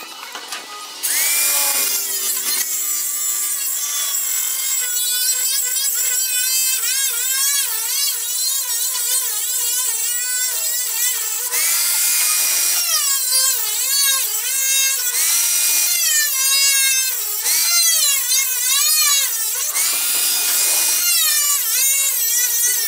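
A power tool cuts metal out of a rat rod tank, a loud whining, screeching tone that wavers in pitch through repeated cutting passes, with short gaps between bursts.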